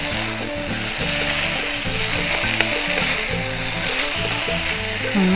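Rice noodles stir-fried in a pan for Thai fair-style fried vermicelli keep up a loud, continuous sizzle, broken by repeated rhythmic clanks and scrapes from the spatula, with no talking.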